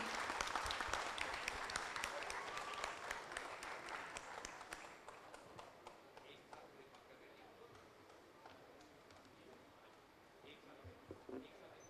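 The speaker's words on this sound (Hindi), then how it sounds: "एक बार जोर से दिल्ली इनके लिए ताली बजाएगी" An audience at a large gathering in Delhi bursts into loud, dense applause that slowly thins out and fades to a scattered patter of claps.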